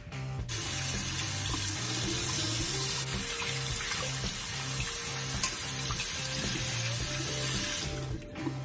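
Tap water runs continuously into a sink while an acrylic paint brush is rinsed, a steady close rushing hiss with faint bumps of handling, stopping abruptly near the end.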